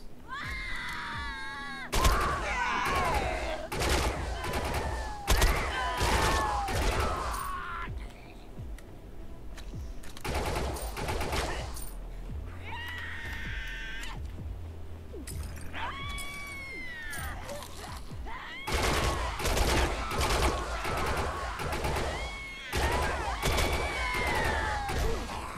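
Heavy weapons fire in the video game Defiance 2050 as repeated loud blasts and crashing bursts in dense clusters, broken by brief lulls, with whooshing effects and faint cries mixed in.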